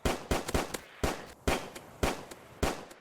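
Pistol shots from a Minecraft zombie apocalypse addon ring out as about eight sharp, loud cracks in an uneven rhythm, some in quick pairs, each trailing a short decay.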